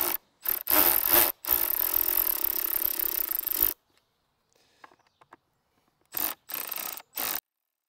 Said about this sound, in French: c'est une tournevis cruciforme. Voilà, donc on démonte